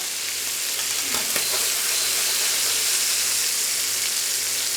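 Guinea fowl pieces sear skin side down in a pan, giving a steady, even sizzle close by with a brief clatter early on and no speech.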